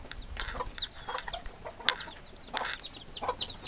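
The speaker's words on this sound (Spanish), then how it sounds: "Mira la gallina." Chickens and a rooster cluck repeatedly on a farm in Cuba, with several short calls overlapping at moderate distance against steady outdoor background noise.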